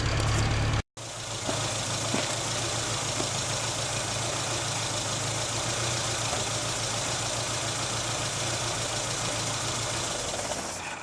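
Suzuki Samurai engine running steadily after exhaust and catalytic converter welding, a constant low rumble heard from inside the vehicle with a brief dropout near the start.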